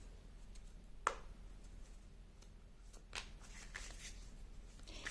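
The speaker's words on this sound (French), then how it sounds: "Je vais prendre l'autre jeu de cartes." A deck of tarot cards is shuffled close by, giving a few soft riffling bursts and a sharp snap amid quiet background noise, with no one talking.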